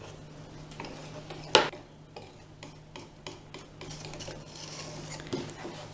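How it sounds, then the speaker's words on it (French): A sharp knife trims excess raspberry tart dough around a pastry ring, cutting from the inside outward; small scraping ticks and one sharp metallic clink against the ring, faint clicks following, no talking. "je vais venir cisailler avec un couteau bien tranchant tout le tour du cercle de l'intérieur vers l'extérieur"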